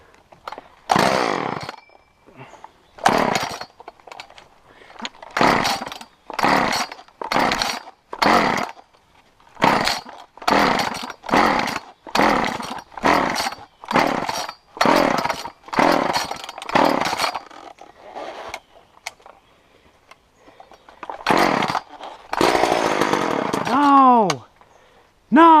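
A Homelite Super 2 chainsaw repeatedly revs in short bursts, stopping and restarting in a rhythmic series, close by, with a longer roaring run near the end.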